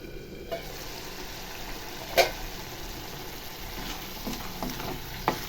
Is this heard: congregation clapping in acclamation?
no